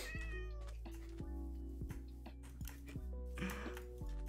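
A cat meows in the blocky survival game Minecraft, with several short, clear in-game mews spaced across a steady hum of background music and game sounds, no talking.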